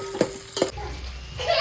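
Onion, green chillies and spices fry in a pan, with two quick stirring clinks followed by a soft sizzle that swells toward the end, close and moderately loud.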